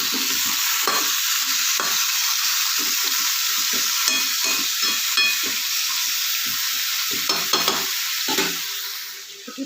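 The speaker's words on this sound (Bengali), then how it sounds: "একটু নাড়া দিচ্ছি।" Pumpkin fries in a pan while being stirred, loud continuous sizzling broken by repeated scraping strokes of the spatula in an irregular rhythm, with no voices.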